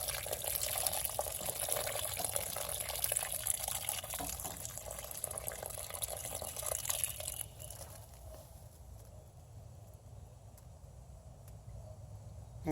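Water pouring into a grow bucket set up for cherry tomatoes: a steady splashing pour that drops to a quieter trickle and gurgle partway through, close and continuous.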